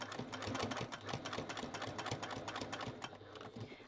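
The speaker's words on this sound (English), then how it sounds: "we're going to top stitch along that edge" A sewing machine top stitches along a fabric edge, its needle hammering in a fast, steady mechanical rhythm with a low motor hum, close and continuous with no voice.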